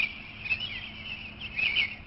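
Small birds sing outdoors in spring, thin high chirps and trills weaving over faint background hum, fairly close and unbroken by voices.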